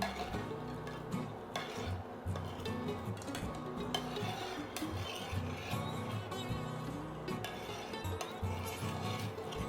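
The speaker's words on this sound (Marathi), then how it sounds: "हे चांगलं ढवळून घ्यायचं आहे" Dal amti, a Maharashtrian lentil curry, being stirred in a pot, with steady scraping and swishing of a spoon against the pot under a continuous low kitchen background.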